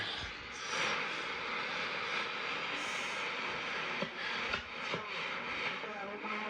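A single sideband radio signal on the CB band plays through big speakers from a Hallicrafters SX-117 receiver, producing a dense, hissy, garbled wash with muffled speech-like warbling and occasional sharp clicks.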